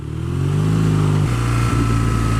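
A BMW R nineT motorcycle, a 2015 model, rides along with a steady, loud engine drone that rises as it accelerates, then drops in pitch after a gear change, with no speech.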